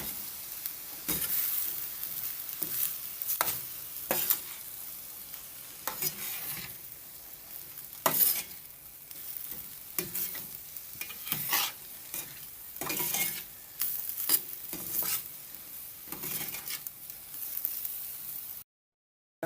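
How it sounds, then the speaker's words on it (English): Rice being stirred into a hot frying pan for frankfurter and egg fried rice: steady sizzle with repeated scraping strokes of a utensil against the pan, close and moderately loud, with no talking. "And now I'm going to add in my rice. Giving it a stir."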